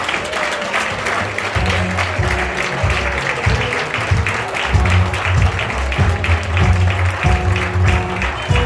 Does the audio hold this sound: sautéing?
no